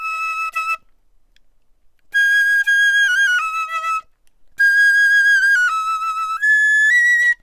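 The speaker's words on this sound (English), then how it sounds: "this sound will give you that kind of quintessential wooden instrument piccolo penny whistle sound" A piccolo plays thin, bright, penny-whistle-like phrases in three separate bursts with silent gaps between them, the notes clear and close and sliding between pitches, with no talking.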